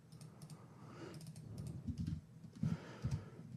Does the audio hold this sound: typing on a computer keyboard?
yes